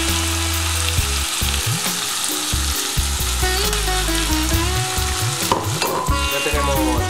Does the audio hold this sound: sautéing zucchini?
yes